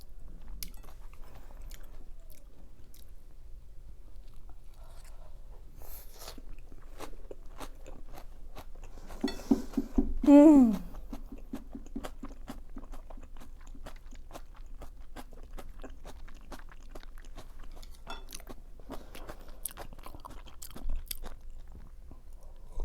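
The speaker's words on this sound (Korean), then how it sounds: "이거 금방 먹고 두 번째 장 부쳐야겠는데 너무 맛있네요" Someone eating kimchi pancake with makgeolli, with quiet close chewing and crunchy bites scattered through a hushed room, a louder burst of mouth noise near the middle and a brief murmur.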